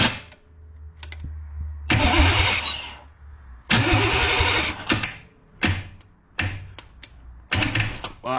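Pontiac Firebird V8 with aftermarket headers being cranked repeatedly, several short bursts of starter churning and engine catching in loud rough bursts separated by pauses, close by.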